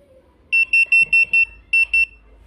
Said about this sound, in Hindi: अब देखिए रिमूव होते ही अपने आप ही इसको कैसे बीपिंग शुरू हो गई है।